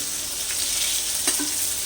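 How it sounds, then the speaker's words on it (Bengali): Pieces of rohu fish frying in hot oil in a pan, giving a continuous loud sizzle with small crackles and a brief stir near the end, close up. "মাছগুলো আমার ভাজা হয়ে গেছে দেখো এপিট ওপিট দু পিটি এরকম করে লাল লাল করে ভেজে নেবে"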